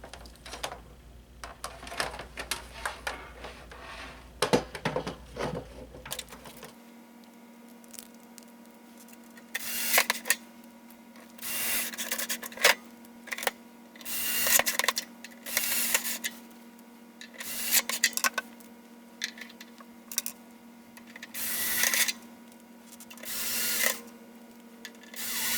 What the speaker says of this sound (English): You're going to want to screw the 5 screws in on the back of the unit and your inlet.